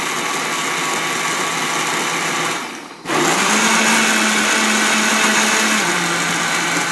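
A blender whirs steadily on an overfilled fruit and vegetable smoothie, a loud dense roar that briefly dips and strains before surging back with a steady motor hum.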